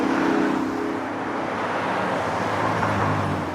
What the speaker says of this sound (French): Oh, mais ils sont de l'autre côté de la route et il y a énormément de voitures.